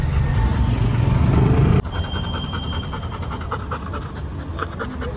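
Puppy panting in quick, steady breaths close by, continuing throughout the clip, with faint traffic noise in the background and no talk.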